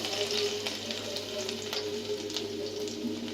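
Cumin seeds and a dried red chilli crackle in hot oil before chopped garlic goes in, giving a steady close sizzle with scattered pops and a few soft stirring clicks.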